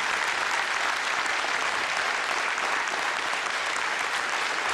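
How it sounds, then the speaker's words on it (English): An audience at a 2018 county commission debate bursts into sustained, dense applause for the candidates, steady and full throughout with no voices over it. "please give your largest possible round of applause for these very hardworking candidates"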